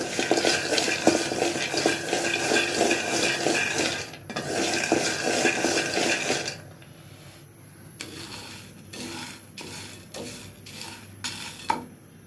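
Metal utensil scraping and stirring fried peanuts into rice in a pan, busy clattering and scraping for several seconds, then quieter with a few isolated knocks and scrapes.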